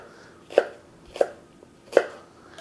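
Knife chopping an onion into large chunks on a cutting board: three crisp, evenly spaced cuts landing close and clear over a quiet background, with no talk.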